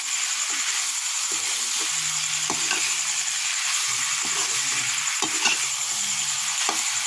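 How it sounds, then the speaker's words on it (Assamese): Local country chicken meat stirred and fried in a pan over a wood-fired hearth, a steady loud sizzle throughout with frequent scraping and clinking of the stirring utensil. "এয়া মই মাংসখিনি ভালদৰে লৰাই লৈছোঁ"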